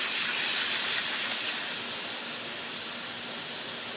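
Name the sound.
compressed air blowing sand and moisture out of air hose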